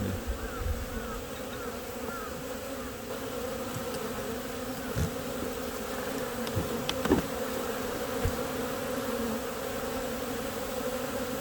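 Honeybees swarm around an opened beehive as a trainee beekeeper swaps out the hive box in spring, a dense steady buzzing that continues throughout, with occasional soft knocks and handling noises.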